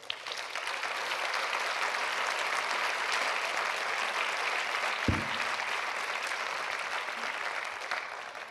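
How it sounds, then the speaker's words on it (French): Audience applause at the opening plenary of a forum, a dense, sustained wash of many hands clapping that holds steady for several seconds, with one brief low thump midway. "Vous pouvez les applaudir très chaleureusement."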